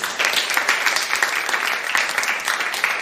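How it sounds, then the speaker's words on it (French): Steady, dense applause from a church congregation acclaiming a brother, continuous clapping filling the room throughout with no pauses. "Acclamons pour notre frère."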